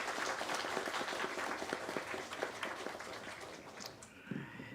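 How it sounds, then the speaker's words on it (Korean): Church congregation applauding together during a Sunday worship service, steady dense clapping filling the room before tapering off near the end. "다 같이 박수 한번 치도록 하겠습니다."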